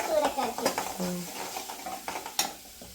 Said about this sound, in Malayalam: മഞ്ഞപ്പൊടിയൊക്കെ ഇട്ട് എന്നിട്ടൊന്ന് ഇളക്കി കൊടുക്കണം അല്ലേ?